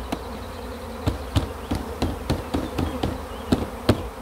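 A swarm of honeybees pouring out of a hive makes a steady, dense buzzing drone, close and continuous, with a series of regular sharp knocks on top of it.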